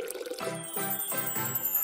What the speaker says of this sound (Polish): Wleję trochę wody